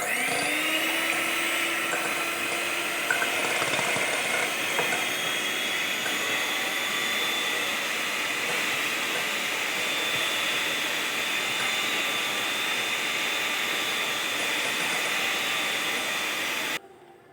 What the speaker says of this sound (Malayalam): ഇനിയിപ്പം നമുക്ക് നമ്മുടെ മുട്ട ബീറ്റ് ചെയ്യണം